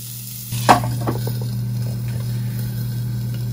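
Uncooked beef burger patty searing in a dry pan with no oil, a steady close sizzle with a low hum beneath and a couple of brief clinks near the start.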